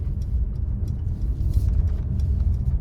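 A 2023 Mercedes-AMG GLC 43 Coupe with a 3.0-litre twin-turbo engine, driven in sport mode, heard from inside the cabin: a steady, loud, low rumbling drone that builds slightly with throttle, with no talking.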